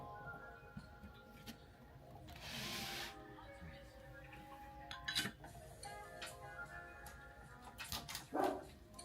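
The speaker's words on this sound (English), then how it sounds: "You guys are barking at the wind." Several short dog barks come in bursts at a distance, scattered over faint background noise and a soft ticking.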